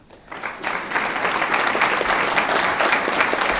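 A board meeting audience applauds a Grand Champion Steer Showmanship winner, with steady dense clapping that starts quickly and holds loud and even to the end.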